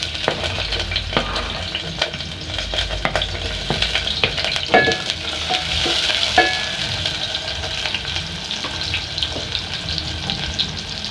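Onions fry in a pan, a loud, dense sizzle with frequent stirring taps and scrapes of the utensil against the pan throughout.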